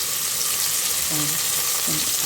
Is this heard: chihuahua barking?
no